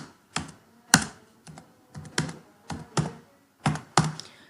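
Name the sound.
typing on a computer keyboard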